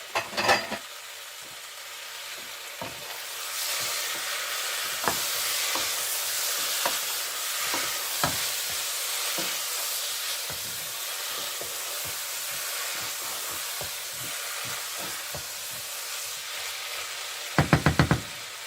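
Ground tomato paste added and sizzling in a pan of dried anchovy curry, with steady frying hiss, occasional spoon knocks and stirring, and a louder clatter near the start and end.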